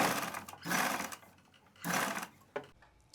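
A sewing machine stitches soft lining fabric strips in two short close bursts, a whirring rattle that starts and stops, with a small click after.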